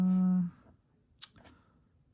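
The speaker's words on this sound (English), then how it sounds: "I'm just going to use another piece of that green cardstock that we already used. I'm just going to cut off a piece here." Scissors snip into a piece of green cardstock, two quick crisp cuts close by in a quiet room, following a short hum at the start.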